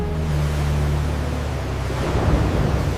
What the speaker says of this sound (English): Waves crash over the bow of the Dei Gratia as she changes course toward the drifting vessel.